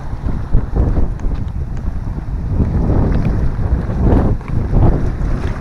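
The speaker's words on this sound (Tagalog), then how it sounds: "malakas ang hangin" Strong wind with rain buffets the microphone in steady low rumbling gusts, with a broad roar that rises and falls throughout, no voices present.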